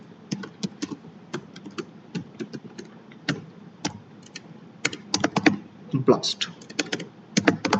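Python code typed on a computer keyboard, irregular runs of close, crisp key clicks with brief pauses, while someone speaks quietly in between.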